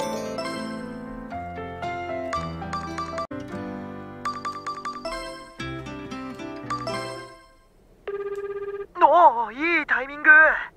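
In the video game Tokimeki Memorial Girl's Side 4, a bright electronic phone ring warbles in quick repeated bursts near the end, loud and up front, after a stretch of chiming background music.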